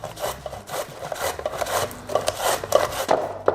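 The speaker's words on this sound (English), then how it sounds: "I'm gonna shave this very thinly on the mandolin" Slaw vegetables shaved thinly on a mandoline, a steady run of quick rasping strokes, close and moderately loud, with no one speaking.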